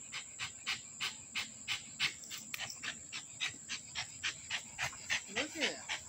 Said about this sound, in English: He's also breathing heavy.